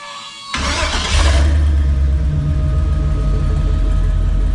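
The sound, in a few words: LS-swapped car engine first startup with old mufflers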